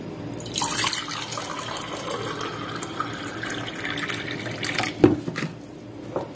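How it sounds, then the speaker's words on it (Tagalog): Tap water streams steadily into a pot while potato soup is being made, a continuous splashing flow with a clunk near the end. "lalagyan natin ng 2"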